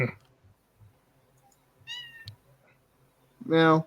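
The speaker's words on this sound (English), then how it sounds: "Yeah, that's my cat." A house cat meows near the microphone, a short call in the middle and a louder, longer meow at the end, with a brief spoken word and some faint clicks around it.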